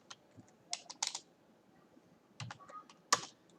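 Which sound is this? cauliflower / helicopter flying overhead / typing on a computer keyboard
typing on a computer keyboard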